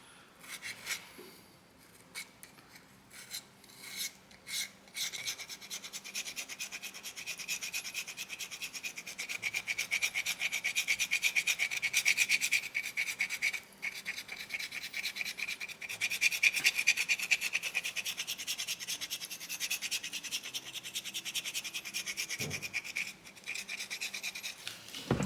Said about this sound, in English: that'll depend on what side of the rasp I'm going to use.